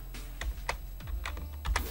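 Keys on a computer keyboard click in a quick, irregular run of faint, close taps while a game plays in a browser emulator, with no talking.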